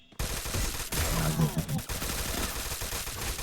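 Loud, dense video game gunfire rattles in rapid overlapping bursts, with a brief pause near the middle before the shooting resumes.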